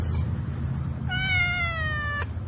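A single kitten, one of a litter of three, lets out a loud, drawn-out, close meow that starts after a brief silence and holds steady over a constant low indoor hum.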